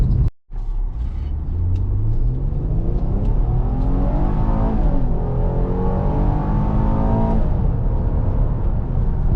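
A powerful 2015 Ford Explorer Police Interceptor SUV engine revs up hard, its pitch climbing steadily as it accelerates, loud and continuous from inside the vehicle before easing near the end.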